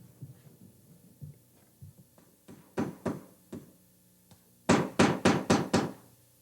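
Hammer blows driving baseboard trim pieces into place in a family room during finish carpentry: soft scattered taps, then a row of sharper knocks, and finally a burst of five loud, evenly spaced strikes close by.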